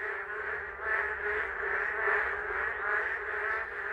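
Narrow-mouthed toads (maengkkongi) calling from hidden burrows in a forest during the first rains, a dense, continuous chorus of overlapping nasal croaks swelling and ebbing steadily without pause.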